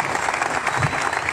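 Applause from a crowd gathered for a political speech by Carlo Sibilia at Castellammare di Stabia, steady dense clapping filling the short moment without pause.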